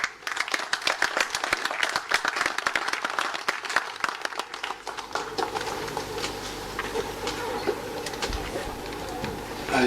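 Applause from a conference audience of West African bank governors in Freetown, Sierra Leone: dense, sustained clapping from a large crowd, crisp at first and then thinning into a softer, steady patter that carries on throughout.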